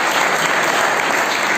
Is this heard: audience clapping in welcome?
yes